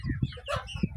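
Bahama chickens cluck softly in a few short, close bursts, with brief pauses between the calls.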